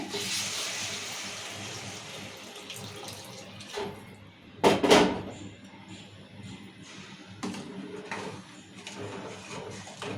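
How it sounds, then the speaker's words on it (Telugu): Water is poured into a pan of taro curry in one short splashing burst midway, with quieter clinks and kitchen sounds around it and no talking. "ఇప్పుడు వాటర్ పోసుకుందాము"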